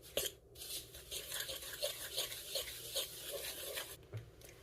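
Low-carb pastry batter of heavy cream powder and baking powder stirred in a bowl with a utensil, giving soft continuous scraping and rubbing strokes close by, with no voices.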